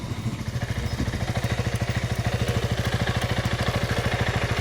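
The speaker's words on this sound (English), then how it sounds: "So you don't hear my motor the whole time." A motorcycle engine idles close by with a steady, rapid low-pitched chugging pulse that holds constant throughout, with no talking.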